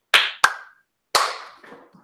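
Hand claps from a small group clapping together on a count: two sharp claps close together, a pause, then a looser, smeared clap with stragglers trailing behind, nearby and crisp.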